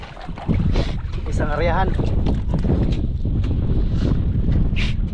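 Strong sea wind roars and buffets a microphone on a boat, steady and loud throughout, with someone briefly talking under it.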